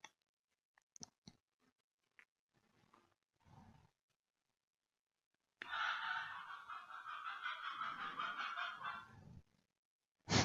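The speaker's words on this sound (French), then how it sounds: "Le coq chante à midi." A rooster crows around midday in the south of France, one long, harsh, moderately distant call of several seconds after scattered faint knocks and rustles in a quiet setting.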